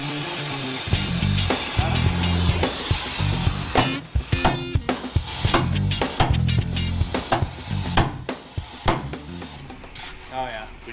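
A torch heating a demolition derby car's rib to push it clear of the caliper, a steady loud hissing roar with clattering knocks and bangs, while people talk over it.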